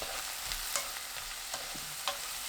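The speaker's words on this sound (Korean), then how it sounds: "뚜껑 열고 골고루 섞어주세요." Soft scraping and light clinks of a utensil stirring vegetables in a pan, a few faint taps at irregular intervals over a low steady background.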